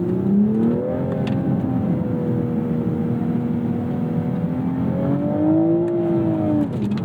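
A manual-transmission 2026 Toyota Supra MK5 engine revs steadily and loudly toward its 7,000 rpm redline, its tone climbing, dipping briefly, then rising again through a continuous sustained pull with no talking.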